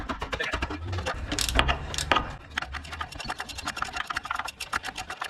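Two 17mm brake caliper bolts being loosened with a ratchet on a Land Cruiser 80 Series rear brake, giving a long run of rapid clicking close by, with some scraping and clunks at the start.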